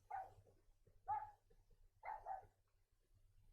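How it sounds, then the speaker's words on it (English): A distant dog barks in the video game Rule of Rose, three muffled barks spaced about a second apart over a low hum, faint and alone with no talk. "There's that dog again."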